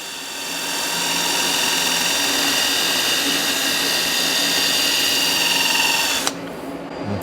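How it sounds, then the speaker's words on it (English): A wire wheel grinds a hydraulic cylinder in preparation for welding, giving a loud, steady, high-pitched whirring scour that holds for about six seconds. It then stops abruptly and a quieter hum remains. "we'll flip it around and wire wheel this side"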